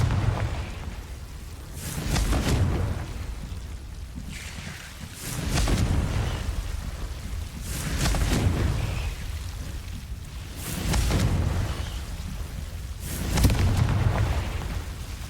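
Repeated Confringo fire-blast spells erupt in Hogwarts Legacy, five loud booming bursts spaced a few seconds apart, each rolling away into a low rumble over ambient wind.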